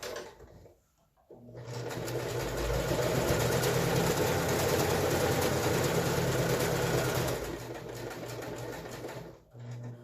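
A sewing machine whirs steadily for several seconds after a brief pause, its rapid mechanical stitching loud and close, then slows and stops.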